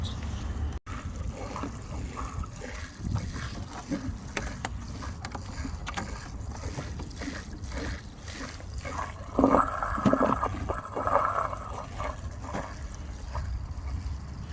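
A washing machine drain pump runs outdoors, pushing water through a hose with a steady low gurgling wash and splashing, rising briefly louder and more watery near the middle before settling back, with breezy background noise.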